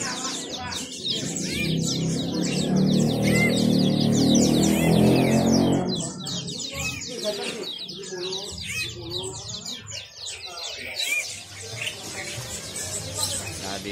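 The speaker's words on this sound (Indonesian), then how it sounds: "Nah, di sini banyak kenarinya nih." Canaries chirping and trilling inside a bird shop kiosk: dense, continuous overlapping tweets and warbles from many birds close by, with a loud busy stretch early on and softer chirping afterward.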